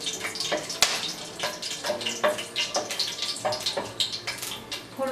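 Whole garam masala, bay leaves, cardamom, cinnamon and peppercorns hitting hot ghee and oil, a busy crackling sizzle with rapid spits and pops, close and loud, a brief voice in the background.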